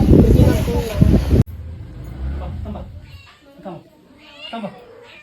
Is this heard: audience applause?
no